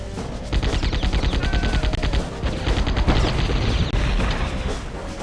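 Gunfire in the Die Hard Trilogy PlayStation game, dense rapid bursts of shots and booms running almost continuously, loud and close with game sound effects layered underneath.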